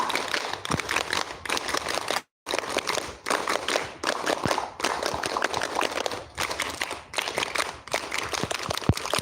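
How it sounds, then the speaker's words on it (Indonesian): Scout troop's rhythmic pramuka clap performed three times by a group of elementary school children at a Scout camp, dense sharp claps in patterned bursts separated by brief pauses, loud and close. "3 kali tepuk pramuka"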